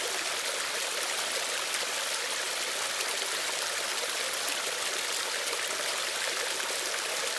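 Water and air forced steadily through a Grayl water filter purifier, a continuous hissing, rushing stream close up that holds even and loud for the whole stretch, with no voices.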